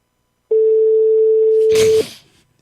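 A telephone dial tone sounds during a French radio talk-show call, a single loud steady pure tone lasting about one and a half seconds, with a brief noisy click or rustle just before it cuts off.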